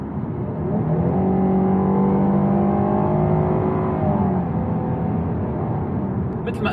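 A 2022 Jeep Grand Cherokee L V6 engine rises steadily in pitch as it accelerates, loud and close, with a continuous whining drone that levels off near the end.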